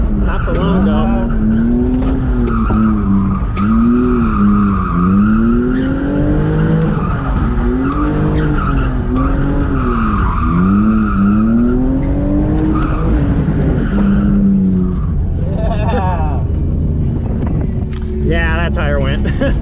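A BMW E46 drift car slides around a track, its run-flat tires squealing in repeated rising and falling arcs over a loud, steady engine roar, close and continuous, with a voice talking over it.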